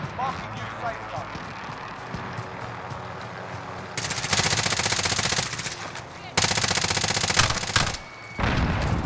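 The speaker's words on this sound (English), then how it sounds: "You hear that? Someone sniped." Sniper rifle shot in a battle royale video game, loud sharp gunfire bursts arriving in several dense stretches amid game sounds, with players talking around them.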